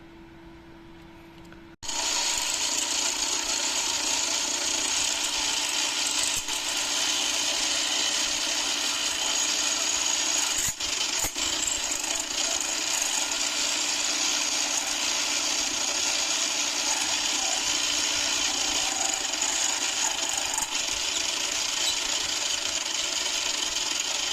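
Drill or lathe work reboring a motorcycle piston with a 12mm drill bit: a loud, steady machining whine and grind starts abruptly after a short quiet moment and runs on unbroken, close to the microphone.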